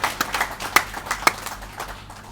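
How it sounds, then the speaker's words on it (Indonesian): A church congregation applauding for Jesus at a Sunday service, a short burst of scattered handclaps with a few sharp louder claps standing out. "Tepuk tangan yang sangat meriah untuk Tuhan Yesus."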